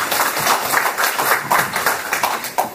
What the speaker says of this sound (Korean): 박수로서 모시겠습니다.